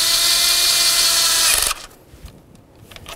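A power tool whirs loudly and steadily while tightening the ignition coil mounting bolt on a 2009-2013 Mazda 3 engine, then stops abruptly, leaving a quiet workshop with faint clicks.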